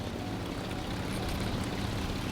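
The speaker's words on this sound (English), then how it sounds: "I can hear another plane approaching." An aircraft engine approaches in the combat flight game War Thunder, a dense, steady propeller drone that holds loud and continuous, with no talk over it.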